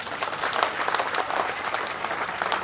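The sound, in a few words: crowd applause at a political rally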